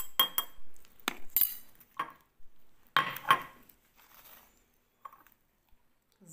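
A metal spoon clinks against glass while rosemary oil is added to a spray bottle: sharp, quiet taps in small clusters with pauses between, close by.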